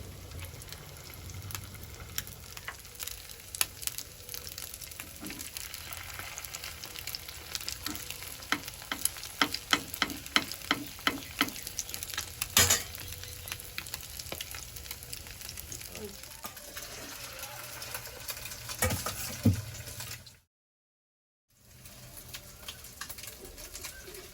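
Maggi noodles with egg fry in a frying pan with a constant close sizzle, broken by frequent clicks and scrapes of stirring, then a short silent gap before the frying resumes.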